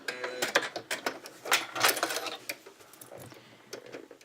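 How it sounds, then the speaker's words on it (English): Sewing machine stitching and back-tacking a fabric lanyard, a run of uneven mechanical chattering bursts at close range, with no talk. "most sewing machines have a reverse button, so just reverse back and then go back forward"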